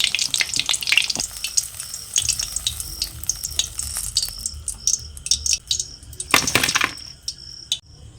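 Tomato pakoras deep-frying in oil over a medium flame, a steady crackling sizzle with brief louder bursts of spattering, close and continuous with no voices.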